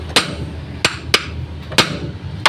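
A hammer strikes the heated lower suspension arm of an old Mitsubishi L300 van, five sharp metallic blows at an uneven pace, close and loud against a low background hum.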